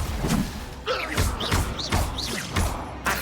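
Spell-casting effects in the game Hogwarts Legacy, a fire spell among a run of combat hits: a series of loud whooshing bursts and thuds, four or five in quick succession, close and punchy.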